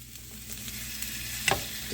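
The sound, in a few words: sausage frying in a pan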